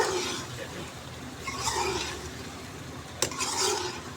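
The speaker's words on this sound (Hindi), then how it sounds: "अब हम इसको अच्छे तरीके से मिक्स करेंगे।" Aloo chicken curry with onions stirred in a pot, soft scraping and gentle sizzling in uneven bursts, with one sharp clink of the spoon against the pot.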